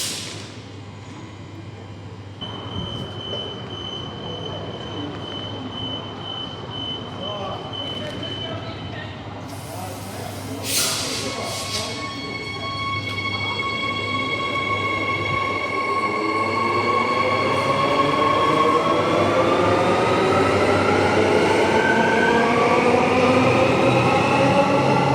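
A Transperth B series electric train on the Armadale Line in Perth at night, rumbling and accelerating with rising motor whine, a brief chime or beep midway, steady and loud throughout.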